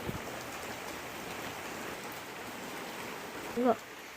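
Steady rain hisses throughout, a dense even patter with a brief louder sound near the end.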